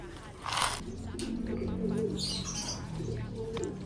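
A stray racing pigeon gives soft, low repeated coos mixed with a few small chirps, fairly close, with faint background voices and room noise.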